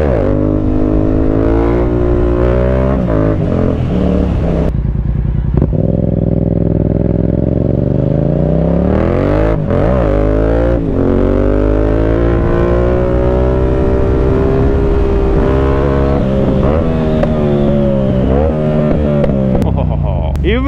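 An Audi S5 with a two-outlet exhaust revs hard and loud up close. The engine climbs and falls repeatedly through throttle blips with a raspy, booming exhaust note, and the sound continues without a break.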